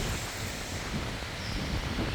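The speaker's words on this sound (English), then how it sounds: "A little windy, more windy as the day goes on." Wind during Hurricane Helene in southwest Cape Coral, Florida, a steady, fairly loud blustery rush buffeting the microphone, with no distinct gusts or other sounds standing out.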